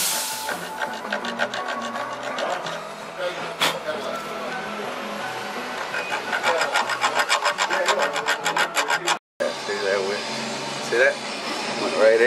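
A metal file rasps back and forth over the threads of a freshly cut bolt on a 1964 Rambler front disc brake conversion, with steady close scraping strokes that run with barely a break.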